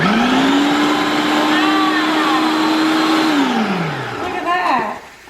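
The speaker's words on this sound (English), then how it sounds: "We just take our cheese. We're gonna chop it up." A food processor chopping cheese whines loudly at a steady pitch, then winds down and stops, leaving a brief clatter at the end.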